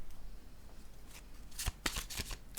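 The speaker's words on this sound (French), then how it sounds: "Je vais déposer une autre carte rose pour cette zone." A pink card is laid down during a card reading: after a quiet start come several quick, faint papery slaps and flicks of cards being handled near the end.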